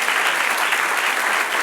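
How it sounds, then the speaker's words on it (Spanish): A church congregation claps loudly and steadily, a dense wash of applause filling the room throughout the short span. "Dale otro aplauso al Señor"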